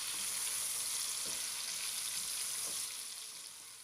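Tomato and green chilies sizzle steadily in hot oil for chicken aloo pulao, a continuous close frying crackle with faint stirring clinks, tapering slightly at the end; no talking.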